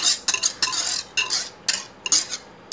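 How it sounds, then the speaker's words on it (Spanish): An egg being beaten in a bowl for KFC-style fried chicken, with quick, sharp clinks of a fork against the bowl in short bursts and an irregular rhythm, close and clear. "acá está el huevo le vamos a, se lo vamos a batir y así batido se lo vamos a agregar"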